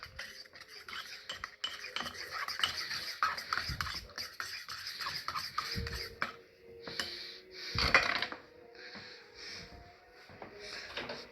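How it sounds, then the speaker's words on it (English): A spoon stirring gravy mix and water in a mug, giving close, uneven scraping and rubbing against the sides, with a sharper clink around the middle. "Mix it up"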